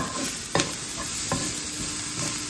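Coriander powder and other dry spices fry in a pan while being stirred, giving a steady close sizzle with a few brief scraping strokes and no talk.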